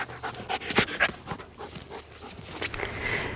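A tracking dog in Rwanda pants close by in quick, rhythmic breaths, with a few soft whimpery catches and no voices over it.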